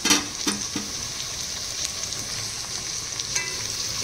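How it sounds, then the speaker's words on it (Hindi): Onions fry in a pan with a steady broadband sizzle throughout, crackling at a constant level, with a few louder stirring scrapes near the start and again toward the end. Nobody speaks. "ये देखिए हमारी प्याज ना एकदम अच्छे से फ्राई हो रही है"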